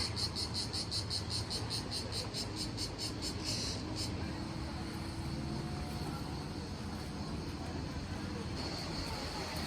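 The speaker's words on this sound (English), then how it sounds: "Noisy crickets." Crickets chirp in a fast, continuous high-pitched pulse over a low outdoor rumble, steady and moderately close throughout, on a coastal hillside descending to the sea in Praiano, Italy.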